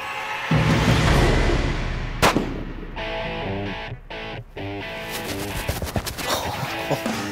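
A single loud Weatherby rifle shot rings out at a whitetail buck on a South Texas ranch, a sharp crack followed by a rolling echo, with brief excited talk afterward.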